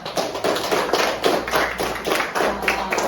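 A classroom of students clapping together during a teaching session, a brisk, fairly soft round of hand claps with rhythmic taps and no talk over it.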